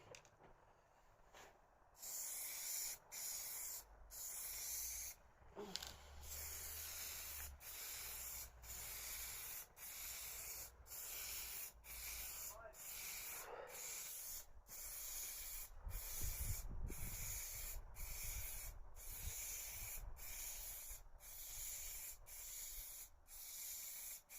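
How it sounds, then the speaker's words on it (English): A spray gun applies a final coat of grey primer to casework in repeated hissing passes, each broken by short, regular gaps, at a fairly faint level. "So I'm just spraying the final coat of grey primer."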